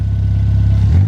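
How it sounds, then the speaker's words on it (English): Ford Fiesta ST engine, a written-off car, idling with a low throbbing rumble that swells slightly near the end, close by and loud, brief and without voices. "Give it a rev."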